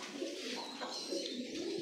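Pet pigeons coo close by in soft, continuous rolling calls.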